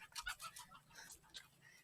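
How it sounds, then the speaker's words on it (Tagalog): A chicken clucks in a few short, bright bursts near a country road in Tarlac, fairly faint and close, with brief pauses between calls and no talk over it. "May manok mga kapatid."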